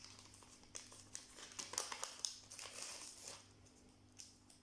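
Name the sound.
opening a paper gift pouch sealed with masking tape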